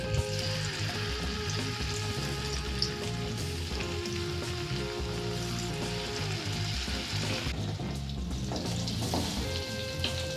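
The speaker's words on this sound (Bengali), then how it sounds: "এরপর কড়াইয়ের মধ্যে আমরা তেল গরম করব এবং আমাদের পনির পিসগুলিকে এক এক করে ভেজে নেব।" Paneer pieces frying in hot oil in a kadai, a dense continuous sizzle with occasional stirring clinks and a brief pop, close up and unbroken by speech.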